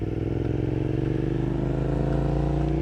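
A Suzuki SV 650 motorcycle engine runs close by with a deep, throbbing V-twin pulse, its rumble steady and slightly rising in pitch toward the end.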